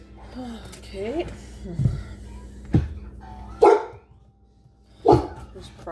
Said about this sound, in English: Probably barking at the kids' cartoon or at my chopping sound.